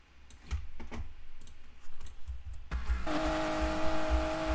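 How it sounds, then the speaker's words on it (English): A racing car engine in Need for Speed Payback rises into a loud, sustained whine after a few clicks, holding a steady high drone to the end. "Yeah, the car is loud."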